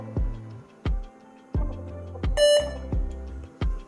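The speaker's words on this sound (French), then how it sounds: "il devrait y avoir un bip au démarrage qui indique que les barrettes sont bien reconnues par l'ordinateur" Startup beep from a laptop booting after new RAM modules are installed: a single short, clear tone rings out once amid a few dull thumps and clicks, close and fairly quiet.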